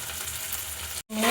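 Onions fry in a pan at the start of a soybean curry: a steady, close sizzle runs on its own, cuts out to silence for an instant, then comes back louder and brighter.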